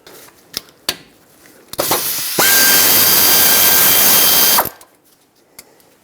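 A power tool with a 14mm socket breaks loose the front brake caliper bolts on a 2018-2023 Subaru Crosstrek, giving a short burst followed by a loud, steady whirring run of about two seconds, with scattered clicks and clanks before and after.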